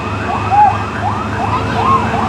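A fire truck siren wails at a large residential fire in Manuyo 2, Las Piñas City, its rising and falling tone loud and close over a rumbling engine.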